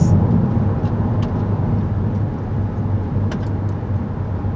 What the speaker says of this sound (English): this is the dual clutch automatic transmission. That should be very obvious to you from just me shifting.